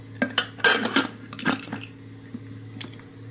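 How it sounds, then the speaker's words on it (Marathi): Metal clanks and clinks close by as a pressure cooker lid is fitted and pressed shut over a little water and peas, followed by a low steady hum. "आता आपण ह्याला झाकण लावूया"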